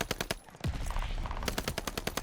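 An H4 Blixen SMG rattles off in a video game, with two rapid bursts of automatic fire separated by a short pause filled with in-game noise, close and punchy.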